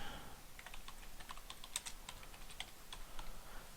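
Quick, light keystrokes on a computer keyboard, an irregular run of soft clicks entering a search keyword, close but quiet over faint background hiss.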